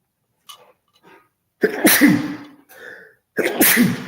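Two loud, close sneezes a second or so apart, each with a sharp sharp burst, following a few faint breathy sounds.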